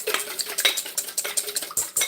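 A utensil scrapes and clinks against a bowl in quick, uneven strokes while banana bread batter with vanilla extract, egg and melted butter is stirred, close and alone with no talking.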